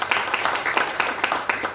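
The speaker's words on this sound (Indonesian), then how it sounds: "Tepuk tangan dulu buat Tuhan ini." A short burst of clapping from a congregation during an online church service, a dense, steady patter of hands that fills the space briefly and sounds fairly close.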